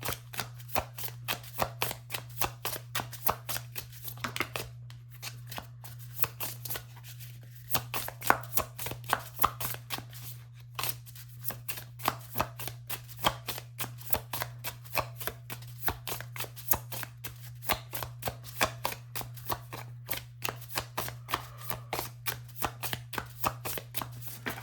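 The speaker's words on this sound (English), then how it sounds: "I'm going to grab a few oracle cards for you guys as well" Oracle cards are shuffled by hand in a long run of quick, soft riffling slaps and taps, close and fairly quiet over a low steady hum.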